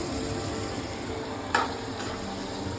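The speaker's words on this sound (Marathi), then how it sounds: "आता कांदा टाकतोय त्या मेथीच्या भाजीमध्ये" Onion fries with garlic in oil among fenugreek (methi) greens, giving a steady close sizzle with a single light clink of a spoon against the pan.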